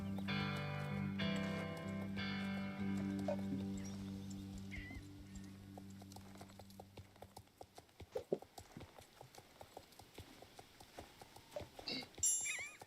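Rhythmic clip-clop of horse hooves from a video game while a horse is being lunged, steady footfalls under game music at first, then clearer, with a brief whinny-like sound near the end.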